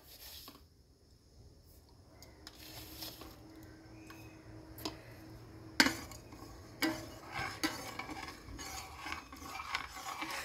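A spoon stirs sugar into hot coconut milk in a pot while coconut pudding is made, with soft scraping and clinks that become sharper toward the end, all at a low level and with no voices.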